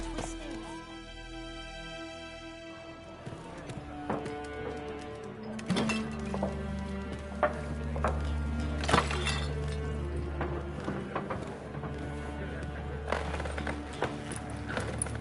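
Roach the horse's hooves clip-clop steadily in The Witcher 3 video game, heard under a continuous bed of game ambience and music with occasional clinks.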